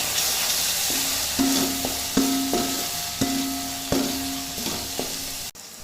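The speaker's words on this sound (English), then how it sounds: "I'm going to add in all our masalas in this stage. Give this a nice mix." Masalas frying in oil with softened tomatoes, stirred with a metal spoon: repeated ringing scrapes and taps against the pan, about eight strokes, over a steady sizzle.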